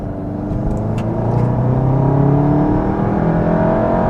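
A Volkswagen Mk7 GTI with a 5150 tune accelerating hard in third gear, its engine note climbing steadily in pitch as it pulls, loud and close with an even drone throughout.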